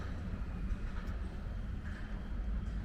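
Faint, steady low rumble of a train pulling out of a station in winter in the distance, a continuous grinding drone with light clanks.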